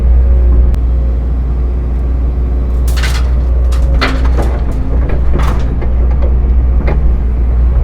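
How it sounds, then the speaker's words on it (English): A Cat 259 skid steer runs its engine while pushing dirt. It gives a steady, loud, low diesel drone, with clanks and knocks in the middle stretch and no talking. "I'm gonna hop in the 259 skid steer, start pushing all that dirt around to where we need it"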